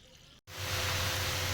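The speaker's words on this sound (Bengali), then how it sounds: "এই যে শাকগুলো আমি ধুচ্ছি, জলে গোড়াগুলো ধুয়ে বেছে নিচ্ছি।" Fresh home-grown spinach greens are washed in water, a steady, close rush of running and splashing water that starts abruptly after a brief silent break and continues loud to the end.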